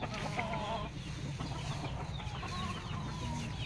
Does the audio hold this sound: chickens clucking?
yes